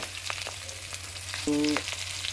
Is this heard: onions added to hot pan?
yes